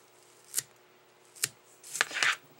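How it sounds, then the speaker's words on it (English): Scissors trimming spun deer hair, a few crisp close snips spaced apart, then a quicker cluster of cuts, with no talking. "Then you can trim around a little."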